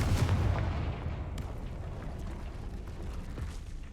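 A Confringo fire-blast spell goes off in Hogwarts Legacy, a heavy booming explosion at the start that rolls into a long, rumbling decay of crackling debris.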